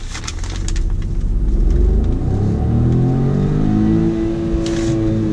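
A Hyundai i20 N Line car accelerates hard through its gears, the engine note loud and close, climbing steadily in pitch as the revs build, with no talking.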